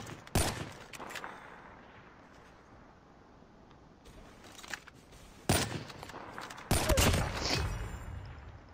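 Gunfire in the mobile shooter Call of Duty Mobile comes in a few sharp, loud bursts against a quiet game background, with longer gaps between the volleys.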